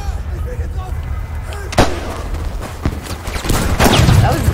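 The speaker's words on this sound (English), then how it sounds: "Dude. I just shot that guy." Battlefield 5 gunfire cracks in scattered sharp shots and bursts over a busy battlefield din, with someone talking throughout.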